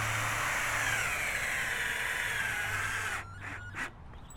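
A power drill drives a 2.5 inch screw to lock down a DuxxBak installation, a loud continuous whine for about three seconds followed by short bursts as the screw seats.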